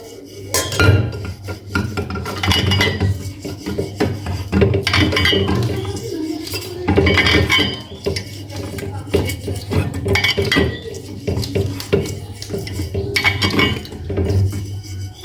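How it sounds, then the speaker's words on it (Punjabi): A brush scrubs the inside of a thermos bottle used for tea, giving steady clinking and scraping strokes in repeated bursts, fairly close and moderately loud, with no talk. "ਬ੍ਰਸ਼ ਦੀ ਸਹਾਇਤਾ ਦੇ ਨਾਲ ਆਪਾਂ ਇਹਨੂੰ ਵਿੱਚੋਂ ਸਾਫ਼ ਕਰ ਦਵਾਂਗੇ"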